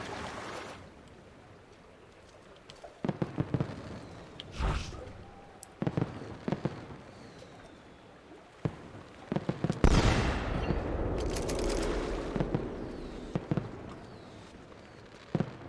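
Pistol fire at targets in Assassin's Creed 2 lands as sharp, isolated cracks spaced several seconds apart, loud and close, over a hissing, rumbling game ambience with no talk.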